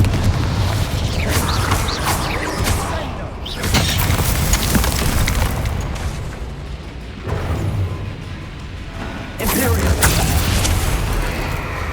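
Repeated Incendio fire spells cast in Hogwarts Legacy, loud roaring whooshing blasts in three long bursts, each a dense rushing burn with short dips between them.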